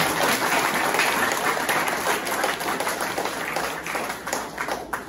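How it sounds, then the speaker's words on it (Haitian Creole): A church congregation applauds together at a combined Sunday service, a dense, steady wash of many hands clapping close by that carries on without a break for several seconds. "D'abord, on applaudit mon Dieu"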